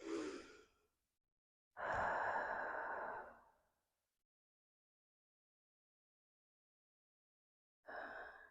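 Slow, deep breathing during a yoga flow: a long breath, a fuller drawn-out one, then another beginning, each separated by quiet pauses, close and soft with no talking.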